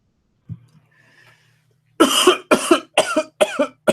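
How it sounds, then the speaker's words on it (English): A person coughing after swallowing wrong: a faint throat sound, then a rapid series of five or six loud, close, harsh coughs in steady succession. "I may be coughing just a little bit here"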